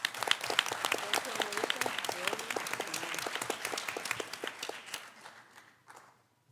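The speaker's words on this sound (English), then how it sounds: "Give us another round of applause for those who earned senior month in Middlesboro High School." An audience at a school board meeting claps for honored high school seniors, a moderate scattering of hands with a voice talking over it, the applause tapering off and fading out near the end.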